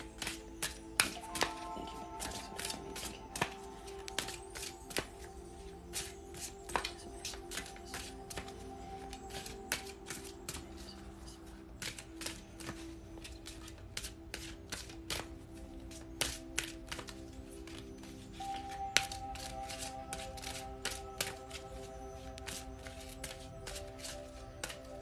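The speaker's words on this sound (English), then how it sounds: "we're going to shuffle our soul's journeys." Soft, rapid papery taps and riffles repeat in irregular bursts as tarot cards are shuffled close by, with no talking.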